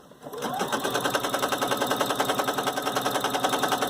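Sewing machine stitching fabric with a basting seam, starting after a short pause and then running in a fast, steady mechanical chatter, close and fairly loud.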